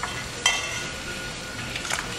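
Mussels go into a hot pan for a Rakhine fisherman's stew, giving a sharp clink followed by a steady soft sizzle and a faint stir or clatter near the end, close by with no talk.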